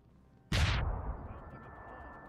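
In Deus Ex: Human Revolution, a grenade goes off after a quiet stretch, one sharp loud blast followed by a long rumbling decay that trails away over the next two seconds.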